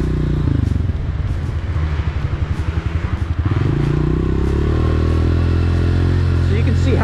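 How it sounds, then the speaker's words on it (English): A dirt bike engine revving hard on an uphill trail as the clutch is fanned, loud and close, with rapid pulsing bursts that climb into a higher, smoother drone. "I'm gonna fan that clutch, gas it up that."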